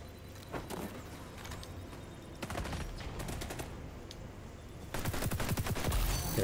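A PP19 submachine gun in the shooter XDefiant fires in rapid automatic bursts, several close rattling strings of shots separated by brief pauses, the last burst loudest.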